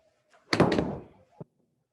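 A golf ball struck inside an indoor golf studio gives one loud, full thud that fades over about half a second, followed by a small, sharp knock.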